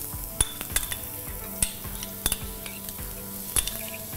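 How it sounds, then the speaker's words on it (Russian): Finely chopped onion frying in olive oil, a soft steady sizzle with scattered sharp clinks of a utensil against the pan and occasional stirring scrapes, close up with no talking. "Начинаем обжаривать."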